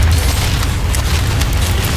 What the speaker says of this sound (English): You will all die to an explosion.